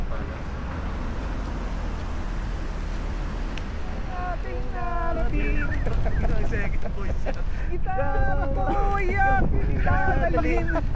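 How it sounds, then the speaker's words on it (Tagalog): Strong wind roars and buffets the microphone throughout near the Grand Lisboa in Macau, with people talking over the rushing noise in the second half. "Sobrang lakas ng hangin."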